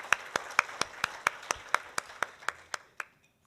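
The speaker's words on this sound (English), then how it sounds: "let's give them a round of applause" A small audience claps at a meeting: a dozen or so distinct, evenly spaced hand claps, fairly quiet, tapering off and ending after about three seconds.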